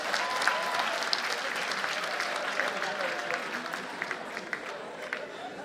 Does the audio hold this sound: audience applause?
yes